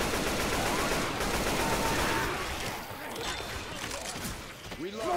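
Rapid, sustained gunfire from Left 4 Dead 2 co-op play in the Swamp Fever campaign, loud and dense through the first half, then thinning into scattered shots with voices talking over the action.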